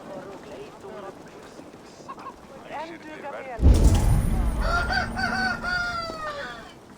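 A rooster crows loudly with a long, drawn-out call partway through, over game music and faint background chatter, in Assassin's Creed Valhalla.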